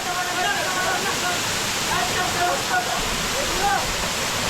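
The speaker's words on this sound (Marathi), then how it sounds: "हा वांगणीचा धबधबा आहे आमचा वांगणीचा धबधबा" The Vangani waterfall roars in a dense, constant rush of falling water, loud and close, with faint voices beneath it.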